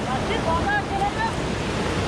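Fast-flowing, ice-cold mountain river water near Rohtang Pass in Manali rushes in a steady, dense roar close to the microphone.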